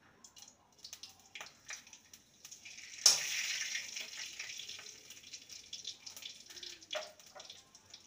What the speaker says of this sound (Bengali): ফোড়নটাকে কয়েক সেকেন্ড ভেজে নেব